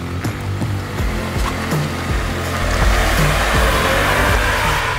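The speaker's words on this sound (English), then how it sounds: "And immediately I pull away faster. This thing launches much more aggressively." A Volkswagen Polo GT TSI launches and accelerates hard, its engine note climbing steeply through several rising sweeps as gears change, loud and close throughout.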